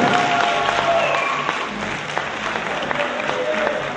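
Sustained audience applause fills a student freshman ball for economics students in Cluj, a dense, steady clatter of many hands that stays loud throughout with faint crowd murmur.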